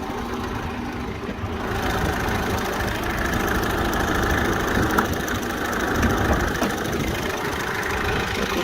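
An Opel Meriva B 1.7 CDTI diesel engine idles nearby with a continuous low rumble and slight knocking texture, holding constant without any revving.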